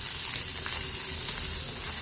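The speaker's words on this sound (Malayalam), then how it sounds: "ഞാൻ എപ്പോഴും ചെമ്മീൻ നല്ലതുപോലെ വറുത്ത് റോസ്റ്റാക്കി എടുക്കാറുള്ളൂ." Prawns fry and roast in a pan with a steady, close, dense sizzle and crackle, continuous throughout with no talking.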